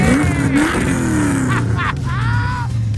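A car engine revs and roars with a throaty exhaust note from its blast pipe muffler, while excited voices cheer and talk over it.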